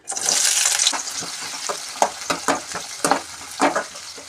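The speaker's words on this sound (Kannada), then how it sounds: "ಇಲ್ಲಿ ಆಯಿಲು ಬಿಸಿ ಆಗಿದೆ. ಈಗ ಈರುಳ್ಳಿ ಹಾಕ್ತಿದ್ದೀನಿ." Onions hit hot oil with a loud, bright sizzle that settles into steady frying, punctuated by several distinct stirring scrapes and clinks.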